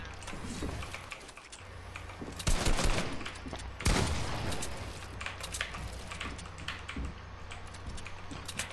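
Fortnite gunfire during a match, heard as rapid crackling bursts of shots over constant game noise, with two louder volleys standing out in the middle.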